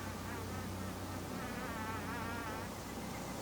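A bee or similar insect buzzes steadily near a narrowboat on the River Thames, a faint, continuous drone with a slightly wavering pitch partway through, heard alone against quiet outdoor ambience.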